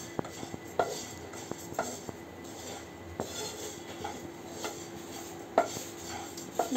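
Moong dal dry-roasting in a pan over medium flame, stirred with a utensil that scrapes and clinks against the metal in irregular taps and knocks, close and fairly quiet with no talking.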